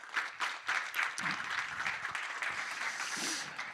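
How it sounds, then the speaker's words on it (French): An audience at a panel discussion on technology and European competitiveness applauds three speakers, a moderate, steady round of clapping from a crowd, heard at a modest level with no talk. "je vous propose d'applaudir nos trois intervenants"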